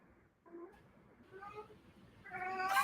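A neighbor's cat meows in a couple of drawn-out calls, close and moderately loud, with the last cry rising sharply at the end.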